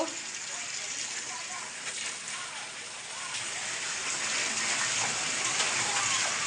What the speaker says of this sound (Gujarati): હવે બરાબર વરસાદ ચાલુ થઈ ગયો છે